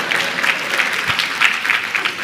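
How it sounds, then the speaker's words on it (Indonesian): Wives in a church congregation applauding together, a dense, continuous burst of many hands clapping that fills the hall, loud and close, with no talking over it. "Lebih baik, para istri tepuk tangan semua."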